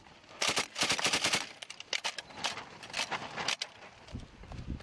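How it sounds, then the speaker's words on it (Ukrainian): Light infantry weapons fire in an exchange at front-line positions near Bakhmut, heard as rapid, crackling bursts and single shots from a middle distance over a few seconds. "Ось такі перестрілки на позиціях завжди."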